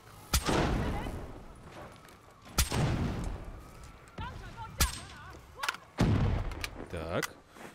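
Several sharp, booming gunshots spaced a second or two apart, loud and punchy with ringing tails, in Call of Duty: Black Ops 3.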